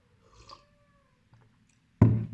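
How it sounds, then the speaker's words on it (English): A pet cat gives a faint, drawn-out meow early on, followed by a pause and then a sudden loud, close bump or rustle at the end. "That's my kitty."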